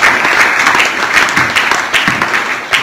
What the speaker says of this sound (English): What about a round of applause for that?